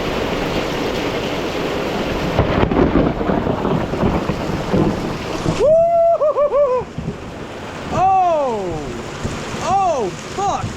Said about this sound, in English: A lightning bolt struck over there.